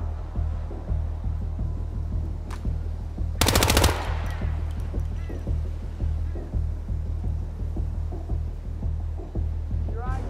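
Rapid automatic gunfire bursts in the stealth shooter Hitman 2, sharp and loud over a steady low rumbling game ambience.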